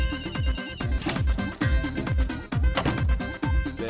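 A telephone rings with a bright, melodic electronic ringtone, loud and close, its short tune repeating in regular cycles about once a second with no voices over it.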